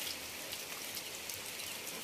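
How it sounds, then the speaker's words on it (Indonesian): Heavy rain falls on a hut at a rice field, a dense, even hiss of drops that stays steady and fairly faint throughout, with no voices. "Ini hujan lagi nih"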